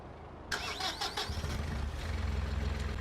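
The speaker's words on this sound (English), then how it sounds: "Sounds like a propane engine to me" In the video game Farming Simulator 19, the engine of a Krone Big M 450 cranks with a sharp start after a brief quiet moment, then settles into a steady, low, close idle.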